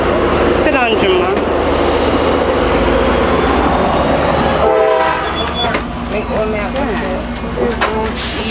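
Inside a moving Tri-Rail commuter train, a steady loud rumble of wheels and car noise continues under people talking, with brief horn-like tones and shifting mechanical hum partway through.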